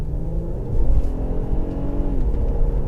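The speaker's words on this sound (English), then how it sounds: "you can push this car and it will just surge and leave you breathless" A 2018 Infiniti Q50 3.0T luxury sedan accelerates, its engine note rising in a steady, fairly loud drone with a slight swell partway through, heard from inside without talk.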